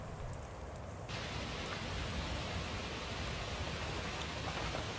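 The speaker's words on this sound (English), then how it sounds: "The rain sounds different" Steady, dense rain falls at a remote lakeside campsite in a constant hiss, with scattered louder droplets pattering nearby.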